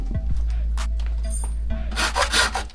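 Wooden edges of an AC unit support are smoothed by hand, with close, rasping strokes in short bursts and a steady low hum underneath.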